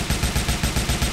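Fast automatic gunfire from a Gears of War match, a loud, steady stream of closely spaced shots with no pauses.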